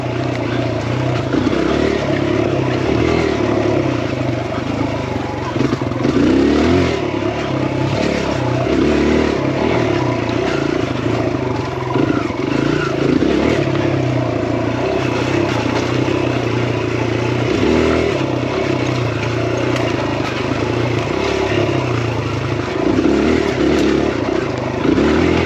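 A two-stroke dirt bike engine revs continuously on a trail switchback, a steady loud drone with rising and falling throttle surges throughout, heard alone with no talk.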